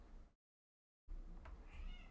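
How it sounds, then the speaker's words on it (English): A house cat meows softly in a room, one short meow after a brief dropout of sound, faint under low background noise. "you can hear my cat"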